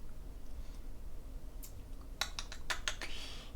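Several quick computer keyboard keypresses come in a short cluster of crisp clicks near the end, close and fairly clear over a quiet room hiss, with no talking.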